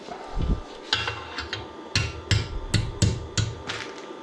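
A bent bicycle handlebar being hammered straight, about ten sharp metallic blows at an uneven working rhythm, close and loud.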